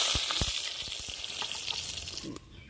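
Dried red chillies crackle in hot oil with a loud, bright sizzle and a scatter of quick pops and spatters, which quieten sharply near the end.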